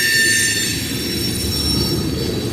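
A freight train hauling tank cars rolls past a railroad crossing, loud and close, with a continuous metallic rumble and high wheel squeal held throughout.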